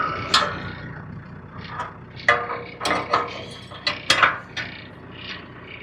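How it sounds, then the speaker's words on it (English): A heavy-duty IronCraft tractor blade is cranked upward by hand, giving a series of sharp metallic clanks and ratcheting clicks at irregular intervals, close and fairly loud with quiet gaps between; no one speaks. "Let me crank it up and raise it up a little bit higher."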